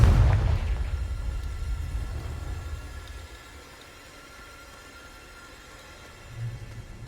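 A Confringo fire spell explosion from Hogwarts Legacy on PS5, one sharp loud burst at the start that decays quickly into a quiet hiss, then a smaller low thump near the end.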